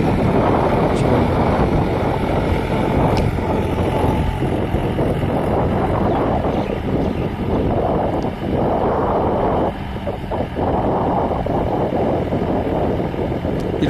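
A tractor with a rotavator churns through a wet paddy field. Its steady, loud, low engine rumble runs continuously and close, mixed with heavy wind buffeting on the microphone.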